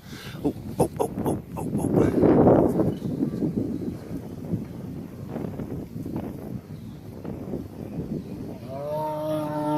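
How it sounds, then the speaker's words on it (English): A low, drawn-out moo rises from an animal amid wind noise and rustling, with a brief higher tonal call near the end. "What are you mooing about?"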